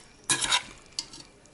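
Food sizzling in sunflower oil in a frying pan: a short burst of crackling hiss, then a second, briefer flare of sizzle about a second later, heard alone and fairly quiet.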